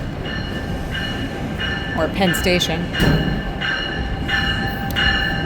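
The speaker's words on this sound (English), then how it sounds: "But here comes a train. I think this train's going to New York" A commuter train pulls into Summit station in New Jersey, its wheels and cars rumbling nearby with brief brake squeals and clatter around the middle, while a station announcement and people talking carry over the steady rail noise.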